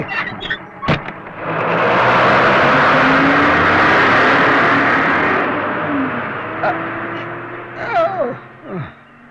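A vehicle speeds away along a road with a loud roaring surge that holds for several seconds and then fades into the distance. Short clatters and voices come near the start and end.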